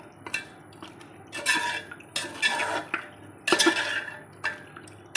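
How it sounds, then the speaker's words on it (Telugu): Mutton pieces being stirred and mixed in a metal cooking pot for Hyderabadi mutton marag, with irregular scraping and clanking bursts of a spoon against the pot, close and fairly loud, no talking. "మటన్ వేసేసి బాగా మిక్స్ చేసుకోవాలి"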